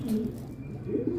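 Pigeons in a pigeon loft coo softly in low, rounded murmurs, with a couple of brief swells standing out over a steady background hum.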